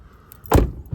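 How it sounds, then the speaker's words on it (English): A 2019 Ram 1500 pickup door slams shut with a single loud, close thud, preceded by a faint rattle of keys. "Oh, the door's open. Okay, so you got to close it."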